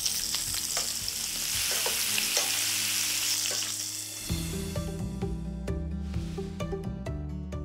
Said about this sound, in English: Just flip over the bacon as it gets rendered.